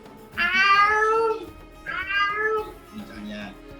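A human voice imitating a cat's meow, giving two long, drawn-out nasal meows and then a shorter, softer one, close and clear with no other background sound.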